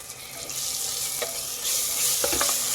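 Ginger garlic paste frying in a pan for mushroom pulav, a dense close hiss of sizzling with a few soft scraping stirs near the end, no talking.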